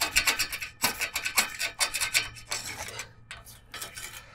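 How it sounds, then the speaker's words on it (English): A scraper blade drags over old paint on a wrought iron fence in a string of quick, rasping strokes, fairly close and steady in rhythm, with no one talking. "so my Linbite scraper is actually scraping it off and working"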